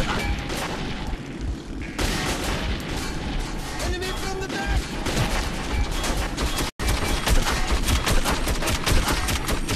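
Dense, loud gunfire and explosions from the video game Metro 2033 fill the scene in a continuous chaotic barrage, broken by one brief cut to silence.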